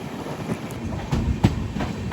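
Netravati Express sleeper train rolling along its tracks, a steady rumble with faint rhythmic clickety-clack of wheels heard from inside the carriage.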